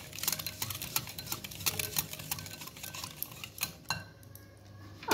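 A spoon clicks and scrapes steadily against a bowl while banana pancake batter is stirred with baking powder, with soft rhythmic taps close by and no talking.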